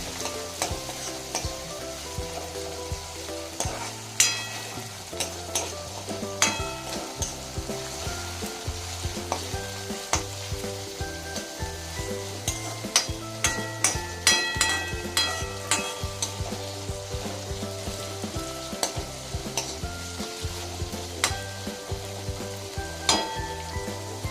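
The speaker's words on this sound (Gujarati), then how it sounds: "ડુંગળી અને ટમેટામાંથી તેલ છૂટું પડી જાય ત્યાં સુધી એને સાંકળી લેવાના છે।" Onion and tomato gravy sautéing in oil for a potato dish, with a constant bubbling sizzle and frequent sharp clinks and scrapes of a spoon against the pan, close and continuous with no talk.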